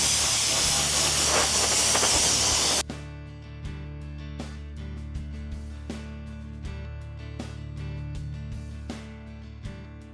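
Powder coating spray gun blasts a loud, steady broadband hiss of sprayed powder for about three seconds, then cuts off abruptly, leaving a low hum with scattered soft clicks and taps.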